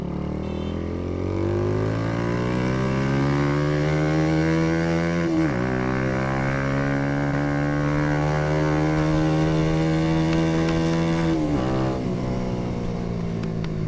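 A 2025 Hi Speed SR 150 cafe racer motorcycle is ridden hard. Its engine note climbs steadily, drops at two gear changes and climbs again, loud and continuous without speech.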